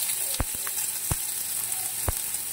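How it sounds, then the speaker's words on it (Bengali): Chopped onions frying in hot oil in a pan, a steady bright sizzle throughout with a few soft knocks of a spoon, close and alone. "এবার দিয়ে দেব পেঁয়াজ কুচি। পেঁয়াজটা একদম লাল লাল করে ভাজতে হবে"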